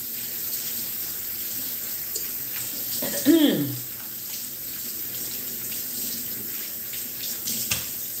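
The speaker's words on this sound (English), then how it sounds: "You wash this cutting board off." A kitchen faucet runs steadily as a cutting board is washed under it, a continuous close hiss of water with a brief splash and clatter partway through and a short voice heard for a moment.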